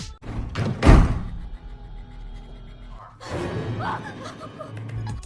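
A house door is shut and locked in a film scene: a heavy thump and clatter near the start, followed by quieter rattling and mechanical handling sounds with low background noise.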